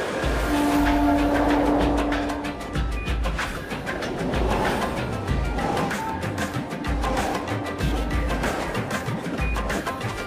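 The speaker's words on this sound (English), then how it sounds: "train's coming" A train on Mumbai's busy railway rumbles past with rhythmic clattering wheels, and a loud horn blares near the start, with a fainter horn sounding later.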